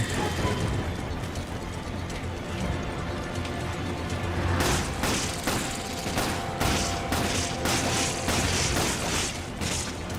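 Shotgun fire in Resident Evil 5 amid loud, dense game action, with repeated sharp blasts arriving in rapid succession during the second half over a continuous rumbling backdrop.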